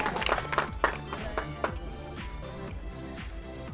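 Applause rings out at an anniversary ceremony after portraits are garlanded, a crowd clapping steadily, starting stronger and settling into a softer, even patter.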